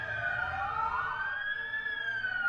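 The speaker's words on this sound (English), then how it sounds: "Is it an ambulance?" An ambulance siren wails loudly and steadily, its tone sweeping up and down and repeating, with no talking.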